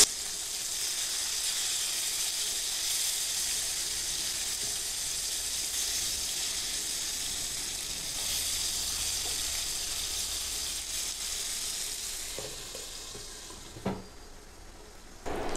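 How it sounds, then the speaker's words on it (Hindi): Surmai fish sizzles in hot oil in a pan, a steady bright frying hiss that holds for a long stretch, then tapers near the end with a couple of sharp clinks of a utensil. "इस साइड को भी हमने 5 मिनट तक फ्राई कर लिया है"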